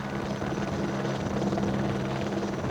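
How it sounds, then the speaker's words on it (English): A helicopter on forestry firefighting work flies with a steady, loud rotor chop and engine drone that continues without a break, with no other sounds. "in the mid-40s that the rotary-winged aircraft became really practical for forestry service"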